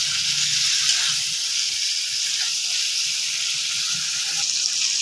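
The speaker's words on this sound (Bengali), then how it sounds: "তো ভালো করে না কষাতে হবে চিকেনটাকে।" Chicken sizzles steadily in a pot as it is sautéed and browned, a continuous bright hiss of frying that holds at an even level throughout with no talking.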